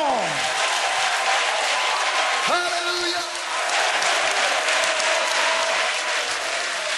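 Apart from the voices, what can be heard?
congregation applause praising God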